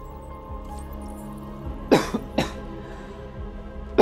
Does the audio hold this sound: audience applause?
no